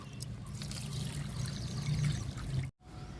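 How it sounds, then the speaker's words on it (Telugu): Liquid fertilizer is poured onto a potted plant, a soft steady trickle and splash of liquid close by for a few seconds, ending in a sudden cut. "ఈ మొక్కకు కూడా లిక్విడ్ ఇచ్చేద్దాము"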